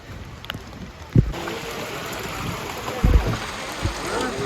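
Rushing river water flowing steadily during rain on the Kedarnath trek, a broad continuous wash with a few louder splashes and thumps up close.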